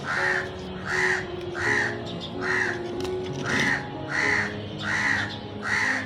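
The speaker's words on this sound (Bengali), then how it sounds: "কাক ডাকতেছে" A crow caws repeatedly from a rooftop garden, about nine harsh evenly spaced calls at moderate distance, steady and rhythmic over a faint outdoor background.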